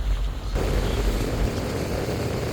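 Boat engine on the Mekong River revving up, a loud continuous droning roar that swells and holds steady, with water and wind noise mixed in.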